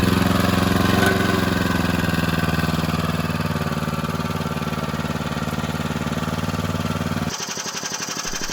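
A 40-year-old cement mixer's engine runs steadily at idle, a constant mid-pitched chugging drone that holds loud and close throughout, its tone shifting abruptly near the end.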